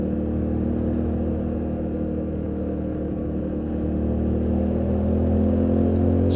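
A Yamaha Tenere 700 motorcycle rides on the street with a steady engine drone and rumble under wind, shifting smoothly through gears without obvious breaks, continuous and fairly loud throughout.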